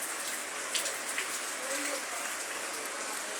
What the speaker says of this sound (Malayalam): മഴ തന്നെ മഴ.